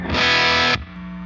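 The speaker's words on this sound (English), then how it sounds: "And then this is just max reverb and distortion." Electric guitar played through maximum reverb and distortion: a thick, sustained wall of fuzzy, saturated tone that cuts off sharply, leaving a lingering reverb tail.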